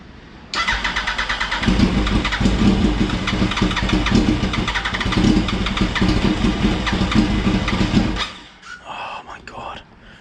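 After ten years of sitting, an old engine cranks and catches, then runs roughly and loudly for several seconds before cutting out into quieter sounds, with a voice talking over it.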